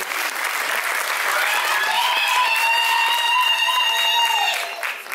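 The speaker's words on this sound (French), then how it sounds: "On peut l'applaudir s'il vous plaît." An audience at a Lady and Lord pageant evening in Réunion applauds steadily, a dense wash of clapping that carries on throughout, with some whistling tones rising over it.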